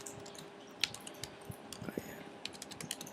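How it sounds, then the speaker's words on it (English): Short bursts of computer keyboard typing, quick irregular key clicks close by, fairly quiet and with no speech over them. "Let me just type it up, right?"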